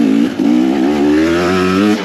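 A 2024 KTM 250XCW dirt bike engine revs hard and steadily while being ridden, its loud, close exhaust note climbing and holding with only a brief dip, with no talking.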